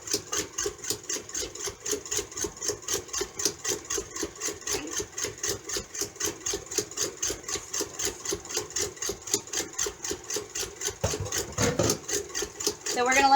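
An electric mixer beats a marshmallow mixture with a steady, rapid rhythmic whir and clatter, close and moderately loud, holding an even pace throughout and swelling slightly near the end.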